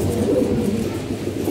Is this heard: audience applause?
no